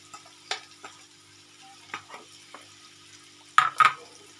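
Butter pepper chicken being stirred and fried in a pan, quiet background sizzle broken by several short scraping stirs, the loudest pair near the end.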